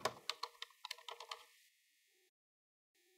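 A quick burst of about a dozen crisp keystrokes on a computer keyboard as a file name is typed, close and clear, then fading into near silence.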